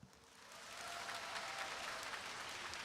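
A church summer revival audience breaks into applause, a dense roar of clapping that swells after the first moment and holds steady and full for the rest, with no speech over it.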